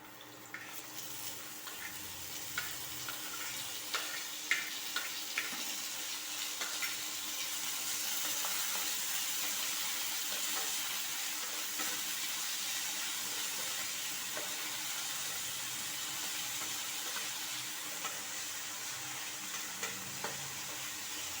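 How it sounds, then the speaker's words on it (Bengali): Potatoes are stirred in a frying pan while making vegetable pasta: a continuous soft sizzle with a watery hiss swelling midway, punctuated by occasional scraping taps of the utensil, all fairly faint and without talk. "হালকা নেড়ে চেড়ে করে এবার আমি এর মধ্যে দিয়ে দেব আলু।"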